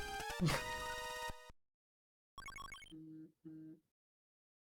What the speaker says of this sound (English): You hear my phone?